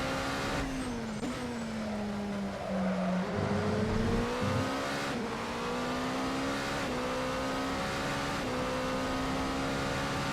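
A race car engine in a racing video game at Road Atlanta revs hard and holds a steady drone, with pitch shifting as it changes gears and sweeps through corners. It stays loud and continuous throughout, with no speech.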